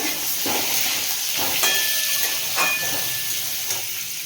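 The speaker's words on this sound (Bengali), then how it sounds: "আলুটা বেশ ভালো করে ভেজে নেব।" Potato pieces seasoned with salt and turmeric fry in a pan with a steady, close hiss of sizzling oil, broken by faint soft clinks and scrapes.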